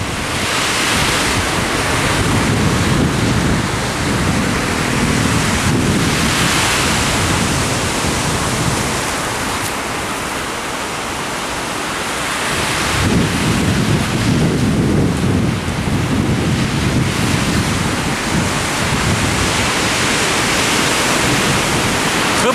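Waves roll onto a Mediterranean beach with a steady, loud surf roar that swells and eases over about twenty seconds, mixed with wind buffeting the microphone. No voices are heard.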